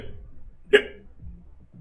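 A single short, sharp hiccup sound made by a voice imitating a hiccup, heard alone and up close with no other sounds around it.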